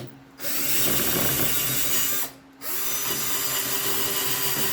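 A drill spins a 2-inch HART wire brush, a steady whirring grind that runs continuously, stops briefly near the 2.3-second mark, then starts up again and keeps running.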